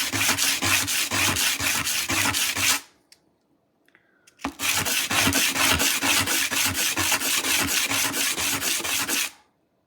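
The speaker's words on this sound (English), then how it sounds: "What you need next is a bit of sandpaper." Sandpaper sanding and smoothing the edges of a small piece, a steady rapid back-and-forth rasp in two long runs separated by a short pause, close and loud.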